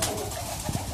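High flyer pigeon with red eyes cooing up close, a brief low throaty coo standing out over faint background noise.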